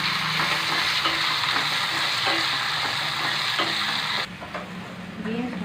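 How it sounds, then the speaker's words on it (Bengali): Green beans frying with salt in a hot pan for a Bengali fried rice dish, a steady close sizzle with occasional stirring scrapes, loud throughout and easing slightly near the end, with no talking. "আমি এদিকে একটু নুন দিয়ে দিয়ে মধ্যে বিনসগুলো ভেজে নিই"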